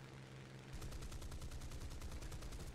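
Spitfire Mk Vc guns firing in the War Thunder flight game during a diving deflection attack: after a short lull, a loud, continuous stream of rapid cannon and machine-gun bursts hammers on without pause.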